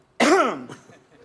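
A stand-up comedian imitates a landlord's cough as a single sharp, voiced hack or throat-clearing burst that is loud and close, then fades to quiet.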